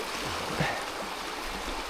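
River water swirls through eddies at a fly-fishing spot for chub, a continuous close rushing and gurgling with no break.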